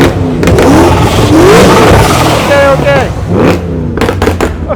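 A supercharged car's exhaust roars loud and close, revving up and down repeatedly with rising and falling engine pitch, outdoors in the rain, and a voice briefly speaks near the end.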